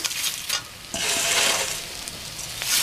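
Flattened rice (poha) is stirred in a frying pan for an Indian atukula snack, with scraping sweeps and a soft sizzle in short close bursts, heard alone.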